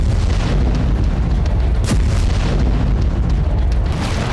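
Explosions and artillery shelling in Ukraine as war news footage: a dense, continuous roar of blasts with one sharp crack near the middle, loud and without speech.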